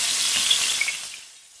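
Mushrooms frying in virgin olive oil in a wok give a brief, bright sizzle with a few pops. The sizzle thins out and fades toward the end.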